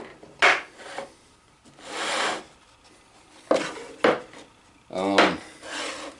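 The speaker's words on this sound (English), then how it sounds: "I have to sand these two ends to make them fit together nice" Wood sanded by hand on the ends of a wooden cutting board, heard as several separate rasping strokes in short bursts with pauses between them, close and fairly loud, with no talk.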